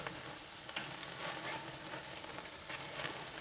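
Burger patties on a flame grill hiss with a steady, close, broadband sizzle, with a few faint scrapes as they are flipped, and no voices.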